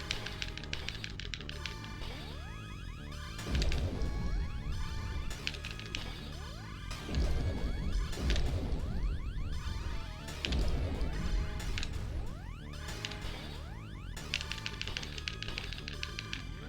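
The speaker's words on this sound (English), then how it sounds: "I like that it makes like a glass shattering noise." Crashing, smashing bursts like breaking glass from a retro video game, repeated several times over busy chiptune-style game audio with steady electronic tones.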